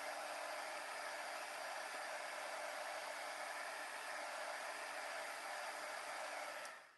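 A heat embossing tool blows hot air over heat-resistant vellum in a steady, loud, hissing whoosh that holds constant for about seven seconds before cutting off at the end.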